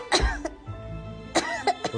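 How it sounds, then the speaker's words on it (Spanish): Several coughs, a burst near the start and a cluster of quick, harsh coughs later, with a low rumble in between. "¿Por qué sigues tosiendo?"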